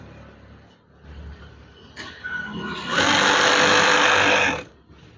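Sewing machine stitching a wide curtain panel, 190 by 230 centimetres: quiet handling at first, then the motor builds and runs in a loud, steady buzzing whir for nearly two seconds before stopping.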